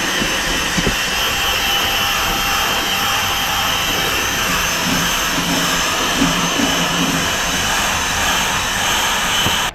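A power drill fitted with a small brush cleaner extension scrubs away steadily during a car restoration, giving an unbroken whirring, hissing roar that stays loud and constant throughout with no voices.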